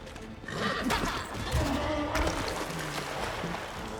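A horse neighs and whinnies as it goes down in Pathfinder: Wrath of the Righteous, with hoof clatter and battle noise during combat. The whinny stands out clearly and a faint voice sits underneath.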